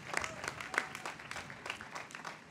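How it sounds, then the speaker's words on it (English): An audience claps at the Bandera High School graduation ceremony in 2021, a brief, fairly soft burst of scattered applause from a crowd. "give them a big round of applause"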